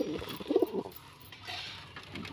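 Pigeons in a loft give soft, low cooing calls, a few rolling coos close by in the first second, then quieter shuffling and faint calls in a calm space.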